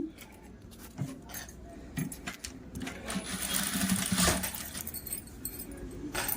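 A sewing machine stitching piping onto a lined blouse, with quick runs of mechanical whirring and clicks close by, rising in the middle of the stretch.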